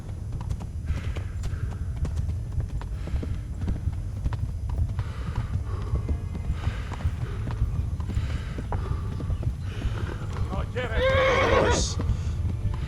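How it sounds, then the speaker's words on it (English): Horse in the Kingdom Come: Deliverance video game gallops with steady rhythmic hoofbeats throughout and gives a loud neigh near the end, under shouting voices. "Horse."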